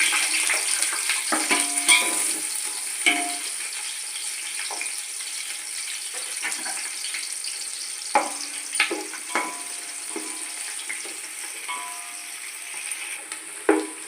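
Onions sizzling in hot oil in a pan for gongura chicken biryani, a steady bright frying hiss with occasional stirring clinks and scrapes, with no voices.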